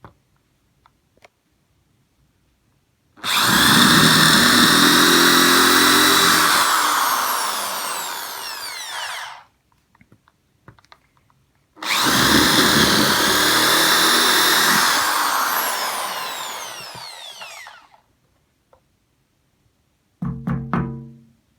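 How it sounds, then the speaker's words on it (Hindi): A Hyundai electric drill with a 12 mm bit bores into wood in two long, loud bursts of about six seconds each, its whine dropping at the end of each run, separated by silence and clicks. "तो वुड पे जो है इसने ड्रिल जो है बहुत ज़्यादा आसानी से कर दी"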